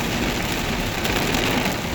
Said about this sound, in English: We got heavy rain, flooding, torrential downpours